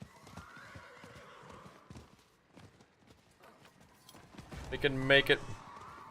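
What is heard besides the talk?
horse neighing and galloping in video game Diablo 4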